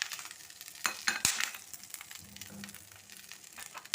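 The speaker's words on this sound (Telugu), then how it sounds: "ఇప్పుడు కరివేపాకు కూడా వేసేయండి." Curry leaves dropped into hot oil for chutney: a soft, steady sizzle and crackle close by, with a brief louder burst early on and light stirring scrapes.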